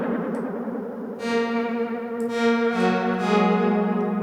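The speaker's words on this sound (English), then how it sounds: "We can have the echo go wobbly." Modulated echo effect on a sustained tonal synth sound, the repeats wobbling in pitch as layered harmonic notes swell and smear into a thick, shimmering tail, loud and continuous with no voices.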